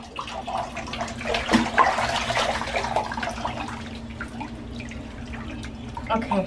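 A dog splashes and plays with water in a bathtub during a bath, with steady sloshing and dripping sounds close by while people talk over it throughout.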